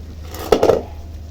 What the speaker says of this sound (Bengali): চলুন আর একবার নাড়াচাড়া করে দিয়ে নিই।